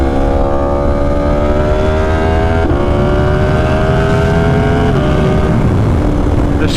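A 2020 Yamaha R1 sport bike with a tuner fitted accelerates hard, its engine whine rising steeply in pitch, broken by two quick gear shifts before climbing again, loud and close.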